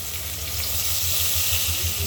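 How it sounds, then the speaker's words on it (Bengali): Spices sizzle and fry steadily in a hot pan while being stirred, cooking for mung dal with fish roe; a continuous close hiss runs throughout with no talking. "মশলাগুলো নাড়াচাড়া করছি।"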